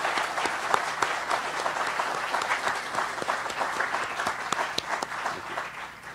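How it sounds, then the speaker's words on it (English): A groundbreaking-ceremony crowd gives the governor a sustained round of applause, dense clapping held at steady loudness for several seconds without speech. "Let's have another round of applause for the governor,"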